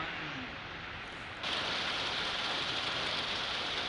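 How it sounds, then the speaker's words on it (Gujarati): Unseasonal rain pours down in Vapi, Valsad, during a storm with strong wind, a steady broadband hiss of falling water that grows noticeably heavier partway through and continues alone without voices. "જે રીતે વાપીમાં કમોસમી વરસાદ વરસ્યો છે"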